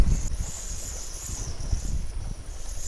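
Wind gusting at a riverside family tent campsite, a steady rushing buffet with low rumbling microphone noise throughout, no voices.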